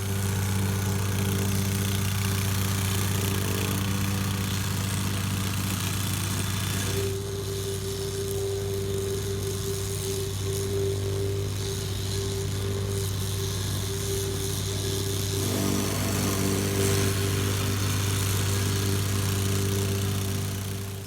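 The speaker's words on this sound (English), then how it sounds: "So now my son's taking a turn using the plate compactor" A plate compactor thumps over 3/4 inch clean rock as a 12-year-old runs it across a barn foundation sub-base: a steady, loud engine drone with a strong low hum that dips slightly in the middle stretch and then recovers.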